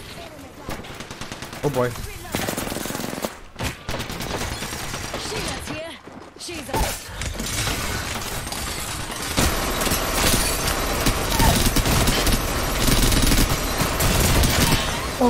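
Rapid automatic gunfire in Apex Legends, loud and close, in dense bursts broken by brief pauses and building to a sustained barrage, with a voice briefly speaking over it.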